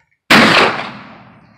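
A single loud, close black powder gun shot at an outdoor woods-walk shooting range, a sharp blast followed by a long decaying rumble and echo.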